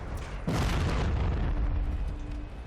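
A single loud cannon blast from an AMX 30 tank in World of Tanks booms out and then trails into a rumbling decay.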